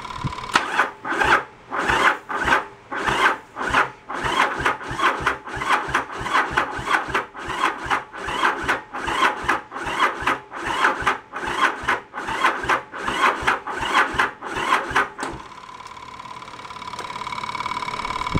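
Starter cranking on a 1986 Yamaha Virago 1100 motorcycle engine, a loud rapid chugging rhythm that runs for about fifteen seconds without catching, then cuts off into a quieter whirring hum.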